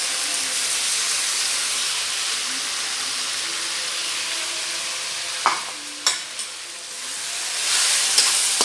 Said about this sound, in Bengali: এরপর আমি আদা রসুনের পেস্টটা দিয়ে দেবো।